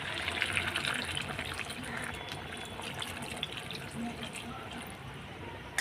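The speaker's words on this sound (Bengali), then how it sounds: "এখন আমি জল দিয়ে দেবো" Water is poured into a pan of potato and egg curry, a continuous close splashing and gushing flow that runs steadily throughout with faint background noise.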